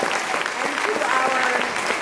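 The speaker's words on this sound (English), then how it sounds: "let us give a round of applause to our facilitator" Audience applause at a conference panel on investing in Black teachers, honoring the facilitator and panelists; steady dense clapping for about two seconds with a speaker's voice continuing over it.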